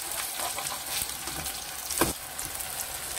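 Aloo tikki potato patties fry steadily in a pan with a soft, even sizzle and a brief louder crackle partway through, heard alone without talk.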